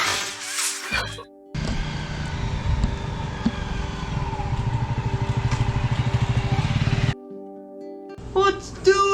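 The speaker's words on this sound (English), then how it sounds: "Today I'm riding Big Yellow, a 2010 Honda Goldwing" A 2010 Honda Goldwing motorcycle engine runs steadily at close range, a rough, even rumble with a pulsing beat that holds for several seconds before cutting off, with short louder bursts at the start and end.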